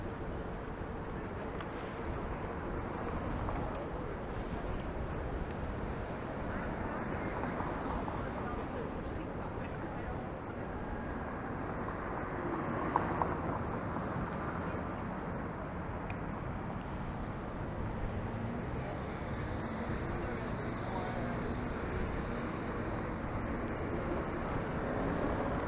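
Steady, roaring wind buffets the microphone throughout a Segway Ninebot Max electric scooter ride heading west on a city street, forming a continuous low rumble with a voice talking over it.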